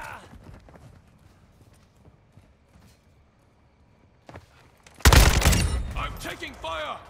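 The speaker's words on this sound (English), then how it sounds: "I'm taking fire." Gunfire breaks out in the Call of Duty Modern Warfare II shooter: after a quiet stretch with faint taps, a loud burst of rapid shots erupts close by, with a voice speaking over it.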